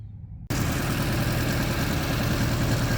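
A Borowski 427 V8 bursts to life after half a second of quiet, then holds a loud, steady, deep rumble close by, running rough and full with constant low vibration and no voices over it.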